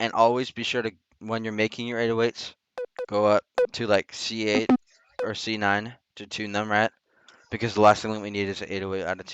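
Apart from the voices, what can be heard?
No everyday noise stands out behind the speech.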